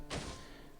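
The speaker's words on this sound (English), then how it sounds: "She was stomping the floor as hard as she could, making a loud noise instead of screaming out with her unheard voice." A single dull thud of a foot stomping on a floor in the Higurashi video game, soft and low, fading quickly.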